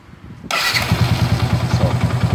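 Yamaha SZ motorcycle with a carburetor leak starts abruptly with one click, then settles into a steady, close, loud single-cylinder idle with an even pulsing beat.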